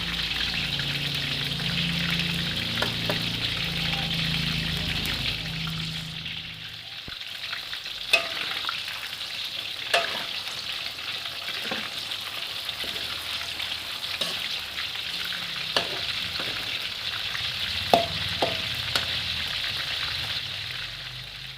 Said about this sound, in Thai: ตอนนี้เราก็ ทอดมาเหลือง สวยแล้วนะครับ